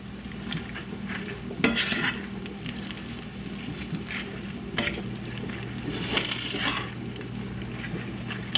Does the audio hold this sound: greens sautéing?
yes